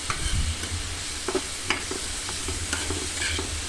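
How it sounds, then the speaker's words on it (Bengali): Spice paste for a dry fish curry being stirred and fried in a pan, with a steady sizzle, irregular scraping strokes and a low hum of heat throughout, no voices. "অল্প একটু পানি দিয়ে ভালো করে মশলাটি কষিয়ে কষিয়ে তেল উঠিয়ে নেব উপরে"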